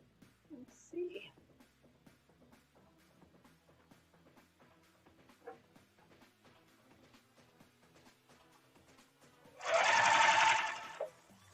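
A sewing machine stitches a fabric seam in one short, loud, rapid burst near the end. Before it come quiet handling noises and soft clicks, and there is no clear speech.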